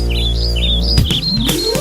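Small birds chirp in quick repeated tweets over a musical backing, bright and close, with a few sharp percussive hits partway through.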